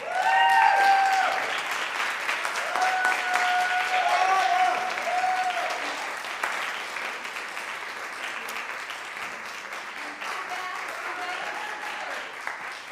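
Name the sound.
audience applause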